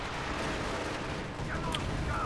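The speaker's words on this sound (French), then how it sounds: "Là le Panthère, vous voyez, qui se retrouve sous le feu du canon anti-char M1" Wartime strategy game battle with an M1 anti-tank gun firing on a German Panther tank, a dense, loud wash of gunfire and explosions without clear separate shots, plus brief higher whines.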